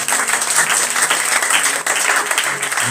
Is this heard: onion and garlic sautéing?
no